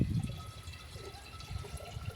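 Water pours into a clay pot used for plant irrigation, a brief faint gurgling splash heard close and alone.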